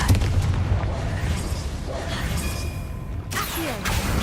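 A Confringo blasting spell explodes in Hogwarts Legacy as a dense, rumbling boom with a whooshing tail, then a second sharp burst near the end over steady low game ambience.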